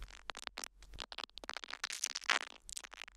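Quiet, dense crackle of tiny clicks and ticks isolated by a de-clicker in audio repair software, rapid and irregular, with no voice or music behind them.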